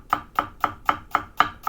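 A knife chops steadily through a shallot on a cutting board, six crisp, evenly spaced cuts close by with no talking.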